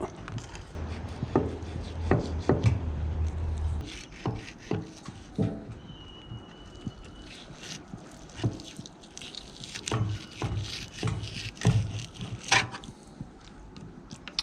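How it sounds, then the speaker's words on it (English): A small knife skins a fish fillet up close, with a steady run of soft slicing squishes and sharp little cutting taps on a board. "Now we're going to skin it. I'll use my smaller knife for this job."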